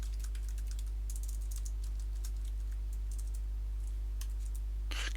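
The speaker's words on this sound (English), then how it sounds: "That's what all the tapping is, you can hear. Just fiddling with my input devices here." A computer keyboard is tapped and fiddled with in quick, irregular bursts of close, crisp clicks over a steady low electrical hum, with a louder flurry of keystrokes at the very end.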